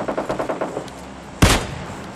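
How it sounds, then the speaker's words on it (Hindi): Gunfire in the PUBG Lite video game, a quick run of evenly spaced shots followed by a pause and then one louder, sharper shot close by. "यहाँ पे सामने फायरिंग की आवाज़ें आ रही होती है"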